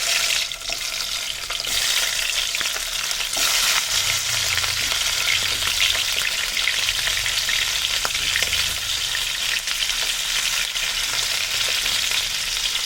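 Crabs hit hot mustard oil and set off a loud, continuous sizzle and crackle, close and steady, with occasional bursts of spitting oil and no talking.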